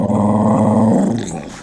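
A dog growls close up in a low, steady rumble for about a second, then trails off as a faint higher sound follows.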